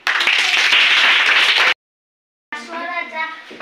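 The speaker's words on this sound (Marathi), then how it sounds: "चला टाळ्या वाजवा" Students in a classroom break into brisk, loud clapping for under two seconds, then silence, followed by a voice talking.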